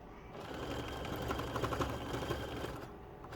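A sewing machine topstitches the knit band of a bralette with a stretch stitch, a steady close mechanical whir with quick rhythmic needle ticks running for a few seconds before stopping.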